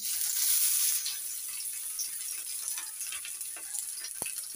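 Chopped onion hitting hot oil already holding bay leaf, dry red chilli and cumin seeds, giving a steady close sizzle and crackle with a louder burst at the start, then even frying with occasional spits.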